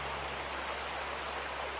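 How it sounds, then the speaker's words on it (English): Water pours and splashes out of a gold pan in a gold mining simulator game, a steady broadband rushing wash lasting the whole moment at even loudness. "Alright, empty out the water"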